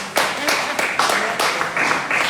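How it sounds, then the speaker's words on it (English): Audience applause at a talk show, a few loud bursts of clapping that rise and ease in quick succession, with talk mixed in. "Please clap for them again."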